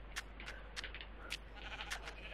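Sheep in Minecraft bleat several times in quick succession, short nasal cries overlapping at moderate distance and fairly quiet, over a low steady hum.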